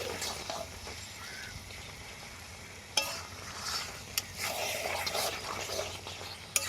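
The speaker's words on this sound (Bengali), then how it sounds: "এবার আমরা এর মধ্যে চিকেনটা দিয়ে দেবো চিকেনটাকে ভালো করে কষে নেব" Chicken browning in a pan for a home-style Bengali chicken kosha, giving a steady moderate sizzle with scraping stirs and a few sharp clinks of the spatula against the pan.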